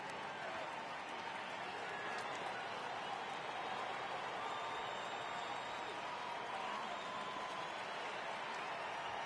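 Stadium crowd at Fenway in MLB The Show 18, Yankees versus Red Sox, a steady, even roar of many distant voices sustained throughout without breaks.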